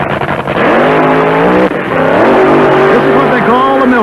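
The Green Elephant, a drag racing car at the 1974 NHRA US Nationals, roars loudly and close up as it runs solo at the starting line, its engine note rising and falling through revs. A commentator talks over it.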